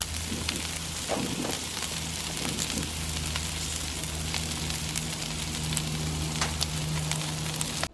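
Venison and turkey bacon frying in a pan, a dense close crackling sizzle that holds steady throughout, with a few soft clinks early on and no talk.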